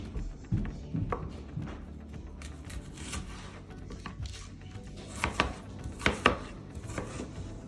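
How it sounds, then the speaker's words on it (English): A knife dicing red onion on a cutting board, irregular crisp chops and taps at close range, quiet overall with a few louder strikes toward the end. "Okay, so I'm dicing the onion just like we did the peppers."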